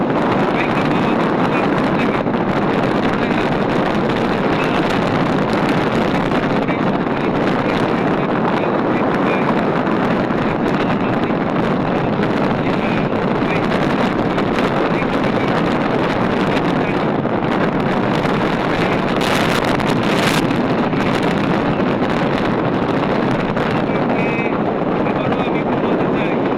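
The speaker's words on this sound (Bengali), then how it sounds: "চমৎকার গতিতে যাচ্ছে আমাদের এই সিএনজি" A CNG auto-rickshaw speeds along a highway, giving a continuous loud rush of wind over a steady engine drone that holds through the whole stretch.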